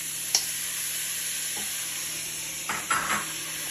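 Seasonings being stirred in a pot while cooking Dominican-style red beans, a low steady sizzle with a few short scraping clicks of the spoon near the end, no talking.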